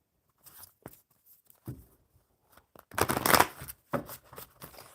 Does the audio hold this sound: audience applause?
no